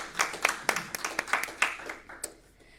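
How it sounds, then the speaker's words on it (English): A small scattered round of applause at a press association journalism awards presentation, a dozen or so uneven claps from a few people, fairly faint and quickly fading out. "I'll give them a round of applause."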